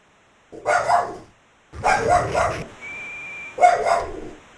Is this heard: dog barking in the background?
yes